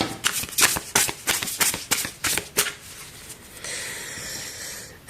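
Tarot cards shuffled by hand during a reading, a rapid series of crisp, close riffles and slaps followed by a steadier papery rustle, loud and near with no talking.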